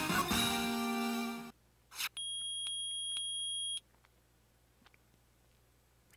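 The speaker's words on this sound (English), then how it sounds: "It's beeping! The metal detector's found something!" A metal detector in the Phoenix Wright courtroom video game beeps: a bright sustained electronic tone with short rhythmic pulses, about two seconds long, preceded by louder game music and followed by near silence.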